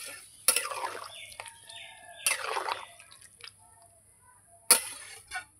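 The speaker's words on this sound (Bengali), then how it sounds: "জল দিয়ে দিলাম, দিয়ে সবজিগুলো একটু নাড়িয়ে দেবো।" Vegetables are stirred in a metal pan just after water is added, during cooking of a bata fish curry with green chillies, giving three short, fairly faint scraping clinks with quiet gaps between them.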